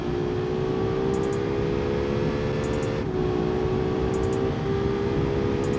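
A naturally aspirated V6 with a sequential gearbox drones loud and steady in a BeamNG.Drive race car, holding a high sustained engine note with a brief pitch dip partway through.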